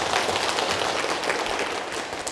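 Audience applause at a Korean life-wisdom Q&A talk, a dense, steady wash of clapping from a room full of listeners that holds for a couple of seconds, then eases slightly at the end.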